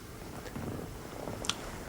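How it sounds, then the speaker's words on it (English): A cat that has come indoors purrs softly and steadily in a quiet room, a low continuous rumble with one brief faint click near the end and no talking. "I'm surprised they allow you a cat in here, sir."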